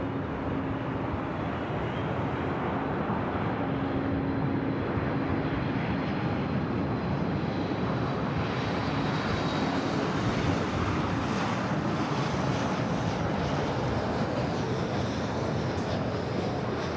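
A Singapore Airlines airliner bound for Tokyo Narita rumbles at LAX, a loud, steady broadband engine roar holding evenly for the whole stretch with no talking.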